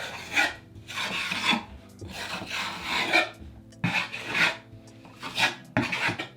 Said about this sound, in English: you need to take your finger and swipe out those grout lines so you don't lose all your dimension